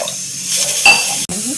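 Water is poured from a glass into a cooking pot of misal masala gravy, a brief steady splash with a clunk near the end, close and fairly loud.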